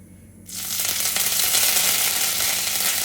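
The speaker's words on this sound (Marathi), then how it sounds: "त्याच्यात घालूया कढीपत्ता" Curry leaves hit hot oil already crackling with mustard seeds for a drumstick kadhi tempering. After a brief quiet moment, a loud, dense sizzle bursts up and holds steady, close and without talk.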